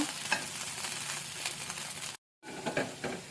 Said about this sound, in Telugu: గార్లిక్ మంచిగా వేగింది కదా